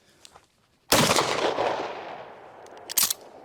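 A pump-action shotgun fires a single slug with one loud, sharp blast that booms and decays over about two seconds, followed by a brief metallic clack near the end; no voices.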